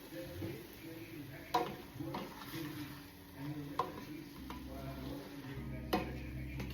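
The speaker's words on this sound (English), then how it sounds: "Give it a good stir." Soft scraping and clinking of a utensil stirring spring onions and mushrooms in a pan over a faint sizzle, with occasional sharper knocks against the pan.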